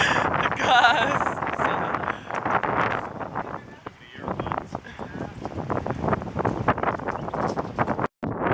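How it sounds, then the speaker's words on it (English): Strong wind buffets the microphone in rough gusts while people talk and exclaim over it, with a brief dropout near the end. "Oh, the breeze! Oh, I'm sorry. The gusts! The gusts!"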